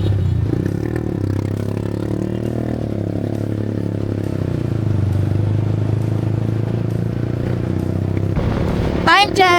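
Group of motorcycles riding together gives off a steady, droning engine rumble and road noise, continuous for several seconds before a brief bright burst near the end, with faint talk.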